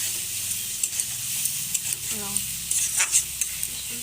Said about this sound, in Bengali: আলু দিলাম এখানে, একটু লাড়াচাড়া করবো।